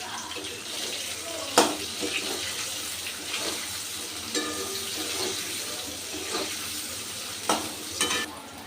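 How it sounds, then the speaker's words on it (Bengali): Chopped onion and capsicum frying in a pan at home, a steady soft sizzle with scraping stir strokes and occasional sharp clinks of the spatula against the pan, no talking. "এই দেখুন পেঁয়াজ ক্যাপসিকামগুলো আমি ভেজে নিয়েছি"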